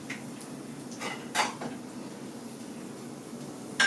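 Cooked eggs are slid from a frying pan onto a plate in a kitchen, quiet scraping and a couple of light clinks of utensil and dishware over faint room noise.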